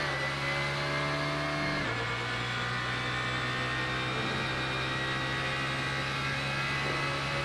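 Alfa Romeo 4C Gr.3 race car in a VR sim racing game at the Nurburgring GP, its engine droning loud and steady throughout, with a gear change or lift in pitch near the start and a continuous whirring tone.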